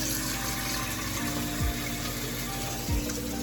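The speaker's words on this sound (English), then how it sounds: "So let the water run in" Water runs steadily from a tap in a continuous low rush, with a couple of brief gurgles along the way.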